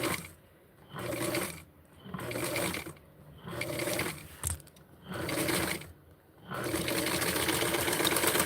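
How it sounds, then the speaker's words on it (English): A sewing machine stitches vintage barkcloth close to the edge in bursts of rapid mechanical whirring, running for about a second at a time with short pauses, then settling into one continuous close, steady run. "I'm sewing really close to the edge"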